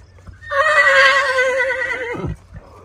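A large horse, one of the sturdy mounts used for ulak (horseback goat-carcass game) on a summer mountain pasture, lets out a single loud, close whinny lasting about two seconds. It ends in a low snort and a soft thud.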